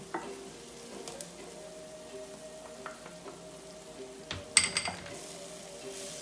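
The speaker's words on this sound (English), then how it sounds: "So now we're going to throw in our zucchini." Zucchini fries in a pan with a quiet, steady sizzle, joined by occasional soft stirring scrapes and a short cluster of clinks near the end.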